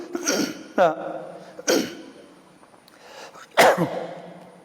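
A man coughs several times in short harsh bursts, clearing his throat between them. He is close and loud, and the room is otherwise quiet.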